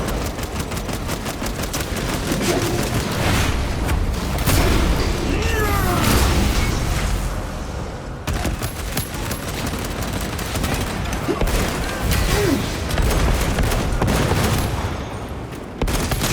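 Weapons blazing in Warhammer 40K: Space Marines 2, dense rapid automatic gunfire hammering continuously at close range with booming impacts and shouted voices mixed through the din.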